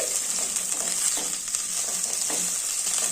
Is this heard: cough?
no